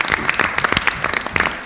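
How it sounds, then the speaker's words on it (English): A short, loud round of applause at a Brooklyn borough board meeting, with irregular, crisp claps from a modest audience, close and uneven. "She deserves a round of applause."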